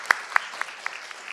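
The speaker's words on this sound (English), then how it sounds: "Thank you to all, and a strong applause to them." At an international symposium on national palaces, sparse audience clapping fades in over a low room hum, with a few distinct, evenly spaced claps that grow softer across a very short stretch.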